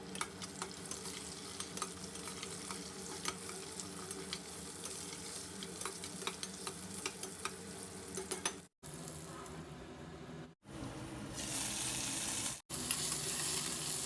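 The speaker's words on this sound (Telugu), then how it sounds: "ఇప్పుడు సన్నగా తరిగిన ఆనియన్స్ పచ్చిమిర్చి కరివేపాకు కూడా వేసి బాగా ఫ్రై చేసుకుందాము" Onions, green chillies and curry leaves fry with cumin and fenugreek in a pan, giving a steady stirred sizzle that is cut by a few brief dropouts before the crackling resumes.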